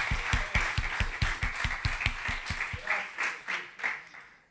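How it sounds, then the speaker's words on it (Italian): A church congregation applauding during a Sunday service, starting with a run of sharp, rhythmic unison claps that loosen into scattered clapping and fade out. "Facciamo un applauso per il Signore"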